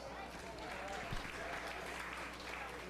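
Audience applause at a 4-H fair sheep show, a faint, distant patter of clapping held steadily through the short stretch with a low room hum beneath.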